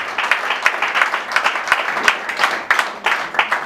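A smaller group at a Congolese business association meeting claps to welcome newcomers, individual claps distinct in a loose, uneven rhythm, moderately close.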